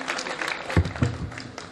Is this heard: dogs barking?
no